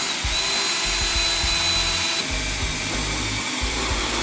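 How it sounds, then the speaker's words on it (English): A power drill bores through an aluminum heat shield and car frame, a loud continuous close whine with slight load changes throughout. "drill it right through the aluminum, through the frame car"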